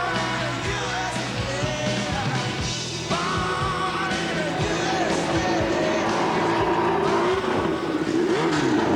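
Car drifting with balanced throttle control and opposite lock on a shiny indoor surface, engine revving loudly and continuously with tire squeal rising and falling, ending in a pirouette.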